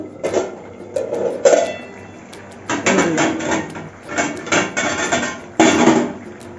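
Metal lid lifted off a cooking pot of boiling potatoes in a home kitchen, a few sharp clanks and knocks amid steady bubbling and clatter, close and fairly loud.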